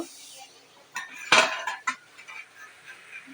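A metal plate used as a lid lifted off a cooking pot of ridge gourd and potato, giving one sharp clattering clink followed by a few lighter taps over faint kitchen background.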